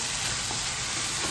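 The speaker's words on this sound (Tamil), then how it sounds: "நல்லா கிளறி வேகட்டும். மசாலாவோட நல்லா குக் ஆகட்டும்." Oyster mushrooms cooking in masala for a thokku give off a dense, even sizzle as they are stirred, loud and unbroken with no voices.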